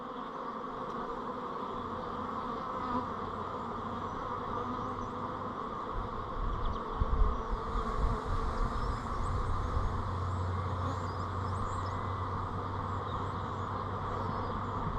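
A steady, dense hum of many honeybees buzzing close by in a hive, continuous and even throughout with faint handling noises.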